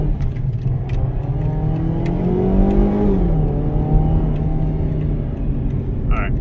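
A Jeep engine is held at full throttle with a throttle-body fault, a loud, close, rough drone whose pitch climbs, sags and wavers unevenly as it bucks instead of revving cleanly.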